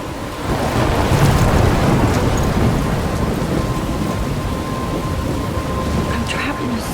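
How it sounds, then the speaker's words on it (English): Thunderstorm in the Life is Strange video game: heavy, dense rain and wind roar steadily with deep rumbling thunder, loud and continuous throughout. "I'm trapped in a storm?"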